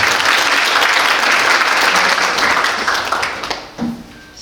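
Audience applause at a Korean ESG forum event, a sustained burst of clapping from a crowd that fades out near the end, with a brief voice at the tail.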